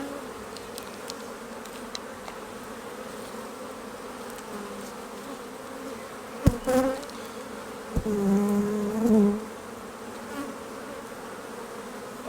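Honeybees humming steadily during a beginner beehive inspection while frames of nectar stores are checked, with a low continuous drone, a sharp knock near the middle, and a louder, closer buzz swelling briefly afterward.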